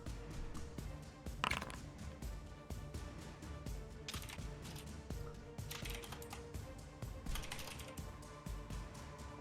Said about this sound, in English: Furious typing. Furious typing.